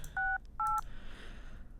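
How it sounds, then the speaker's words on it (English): Two short telephone keypad tones beep one after the other, each a brief clean electronic chirp, followed by faint low background noise. "Maybe it's like the actual phone beeping noise."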